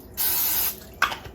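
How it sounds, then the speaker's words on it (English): Cooking spray hisses into an Instant Pot liner in one steady half-second burst, close and fairly loud, followed by a shorter second spritz. "I'm going to spray the inside of my liner just to make cleanup"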